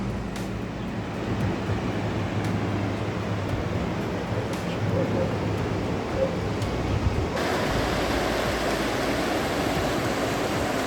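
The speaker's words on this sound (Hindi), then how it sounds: "होटल के जहाँ पर मैं रुका हूँ अभी बाहर, यहाँ से बिल्कुल सामने आपको नदी दिख जाएगी।" The Indus river flowing past a hotel in Ladakh: a loud, steady roar of rushing water, close and continuous, with broadband noise that barely changes and a slight lift in brightness near the end.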